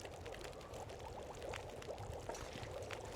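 Water pours continuously in the survival video game The Long Dark, a steady splashing trickle that runs unbroken for a few seconds, with no speech over it.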